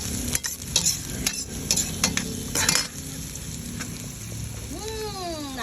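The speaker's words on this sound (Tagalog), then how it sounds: "Iba-brown lang natin konti ang bawang." Garlic browning in a pan beside onions, a close steady sizzle with repeated sharp scrapes and clinks of a utensil stirring, and a rising tonal squeal near the end.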